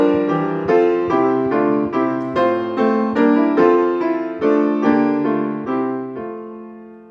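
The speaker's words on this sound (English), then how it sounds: "Another famous Welsh tune is Hyfrydol" Played alone on what sounds like an organ or piano, the Welsh hymn tune Hyfrydol moves in a steady sequence of full chords, each struck and sustained before the next, loud and close, fading at the end.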